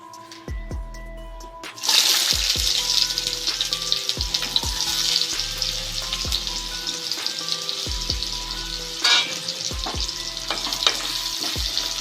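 Radish and radish greens fry with garlic in a hot pan, a loud sizzle that bursts up as the vegetables go in, with repeated scraping stirs of a spatula and steady crackling underneath.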